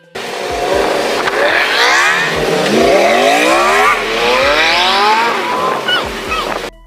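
A steady stream of cars passes by on a road, one after another, each swelling and fading as it goes by, with near, loud tire and engine rush that continues without a break.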